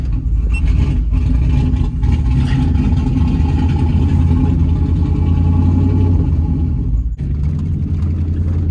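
An old junk truck engine runs with the throttle held up, a loud, steady low rumble that continues unbroken and drops briefly near the end before carrying on.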